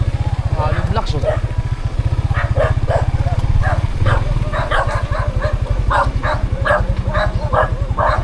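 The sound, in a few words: many dogs barking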